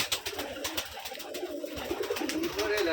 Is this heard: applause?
no